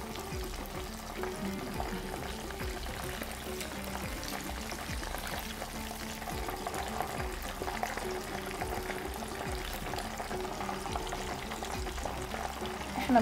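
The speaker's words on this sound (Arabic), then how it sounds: "كل ما الزيت بيكون حامي أكتر، كل ما بعجل عملية القلي والاستوى يعني" Pieces of coated chicken fry in hot oil for homemade fried chicken, giving a steady, dense crackling sizzle that holds evenly throughout with no voices.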